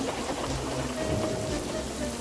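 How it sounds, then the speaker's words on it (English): Wind and rain in a stormy scene beside a toy railway: a dense, steady hiss of downpour with gusty rushing, continuous and fairly loud throughout. "Wind and rain buffeted Edward."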